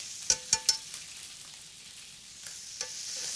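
Garlic sizzles in a stew pot while a spoon stirs it, with a few sharp scraping clacks near the start and a couple more later over a steady soft frying hiss.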